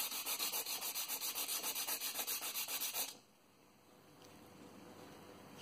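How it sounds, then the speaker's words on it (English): Light hand sanding on the wooden body of an old Elvicta 530 wood-and-brass spirit level gives steady rhythmic rubbing strokes, fairly close, then it stops and a quiet room tone remains. "Just a bit of light sanding,"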